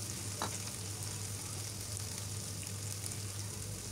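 Ginger-garlic paste with turmeric, chili and coriander powders sizzles steadily in a pan for chicken bhuna, a close, continuous frying hiss with no voices over it.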